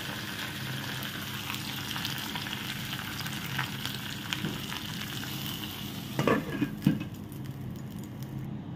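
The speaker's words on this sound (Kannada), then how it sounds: "ಫ್ಲೇಮನ್ನು ಆಫ್ ಮಾಡಿ ಪಲ್ಯಕ್ಕೆ ಹಾಕಿಬಿಡುವ" Hot tempering with curry leaves is poured into green gram palya, setting off a steady, crackling sizzle with stirring sounds throughout, a few louder spits and clatters near the end before it quiets.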